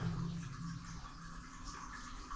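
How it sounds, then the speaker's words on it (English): Water trickles steadily through a rock collapse deep in an abandoned UK mine, a soft, continuous hiss and patter that stays faint and even for a couple of seconds. "It's just water coming through this collapse here."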